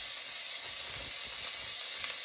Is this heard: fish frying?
yes